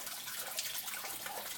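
Water runs steadily through a small mini sluice used for fine gold recovery, a continuous close trickling and splashing wash with no voices over it.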